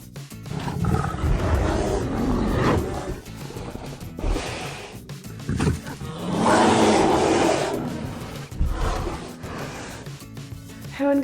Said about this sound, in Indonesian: berikut adalah suara beruang kutub